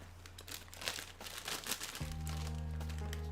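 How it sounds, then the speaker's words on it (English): Crunchy snack eaten up close: crinkly, crackling bites and chewing for a couple of seconds, then a steady low hum takes over. "Listen to the crunch sound."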